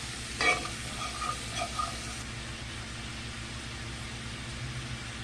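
Vegetables frying in a skillet for a country chicken thighs and gravy dish are stirred, giving a steady low sizzle with a few brief scraping clicks early on, near and fairly quiet, with no talk.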